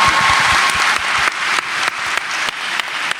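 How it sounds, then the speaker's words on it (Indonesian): Audience applause at a live talk-show style event: a steady, full burst of clapping from a crowd, sustained for a few seconds and fading slightly in waves, with no talking over it. "Boleh kasih tepuk tangan."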